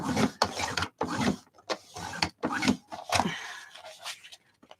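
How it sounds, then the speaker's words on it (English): Scissors or a blade work through thick collaged fabric layers, making repeated close rasping, rubbing cuts in short bursts separated by brief pauses. "It's a lot to cut through with this fabric."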